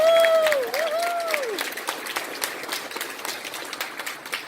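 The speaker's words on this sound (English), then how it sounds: "Let's give Kristen a round of applause." An agent panel audience breaks into a round of applause for Kristen, with dense clapping that starts strong and tapers off. A brief whistle-like gliding tone sounds at the start.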